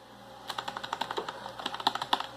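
Keys tapped on a UtechSmart Saturn gaming keyboard, a quick irregular run of close, crisp clicks with no talk.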